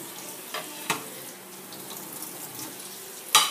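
Faucet water running into a sink during dishwashing, a soft continuous stream with occasional clinks and splashes, no talking.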